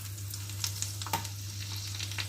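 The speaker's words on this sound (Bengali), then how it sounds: "রসুনগুলো দিয়ে 10 সেকেন্ড মতো ভেজে নেব" Finely chopped garlic sizzles in hot oil in a pan for chili chicken, a soft continuous crackle with a few brief stirring clatters, close and alone without talk.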